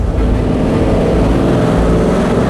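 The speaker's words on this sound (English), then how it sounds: "Ben, you haven't been behind this car when it's going, have you? It's loud" A Jaguar XFR's supercharged V8 runs loud and close, a heavy, throbbing low rumble with a steady idle pulse and no voices over it.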